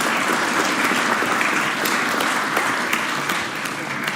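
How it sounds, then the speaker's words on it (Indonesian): Audience applause at an Indonesian government event on trimming state-owned enterprises, a steady dense wash of clapping from a large crowd lasting about four seconds at even loudness, easing slightly near the end. "ini boleh tepuk tangan dong"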